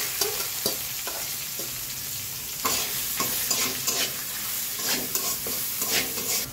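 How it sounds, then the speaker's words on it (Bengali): Onion, ginger and garlic fry in a wok already used for vegetables, a continuous sizzle broken by repeated scraping and clattering stirring strokes at an uneven rhythm, with no voices. "আমরা যে কড়াইটাতে সবজি ভেজেছিলাম সেই কড়াইতেই আমরা এই মশলাগুলো কষিয়ে দিচ্ছি।"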